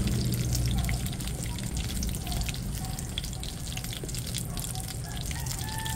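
Steady crackling sizzle of vegetable spring rolls with mung bean sprouts frying in hot oil, continuous and close, with no talking.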